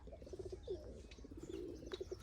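Soft, low cooing from a wild pigeon, a few repeated hooting notes in short groups, faint and somewhat distant against quiet background noise.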